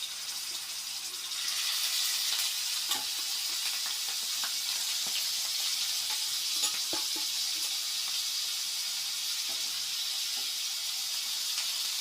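Grated bottle gourd frying in hot ghee in a pan on a stove, a steady close bright sizzle and hiss that swells after a quiet start and holds evenly, with faint scrapes and no talking.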